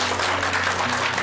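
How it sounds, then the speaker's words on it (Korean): A studio audience on a Korean morning TV talk show claps in a steady, moderately loud wash of applause, with a faint tonal hum running underneath. "이 남자분께도 큰 박수 부탁드리겠습니다."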